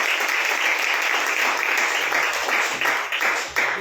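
A church congregation applauds together at a Good Friday service, a dense, loud burst of clapping that holds steady for a few seconds and then dips and surges again.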